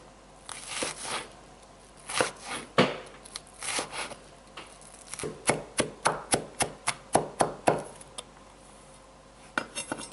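An onion being chopped with a knife on a board, a series of sharp, close, evenly spaced knife strikes that grow quicker and more rhythmic in the second half.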